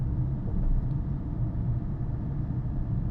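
A car engine rumbles steadily from inside the cabin while driving through Chennai city traffic, shifting from second to third gear. The low, even drone continues with no talk.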